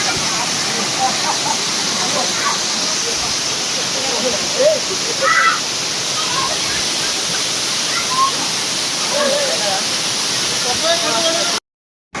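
A forest waterfall near Mancherial, Telangana, roars in a constant, broad rush that fills the whole scene, with faint voices talking briefly over it before it cuts off.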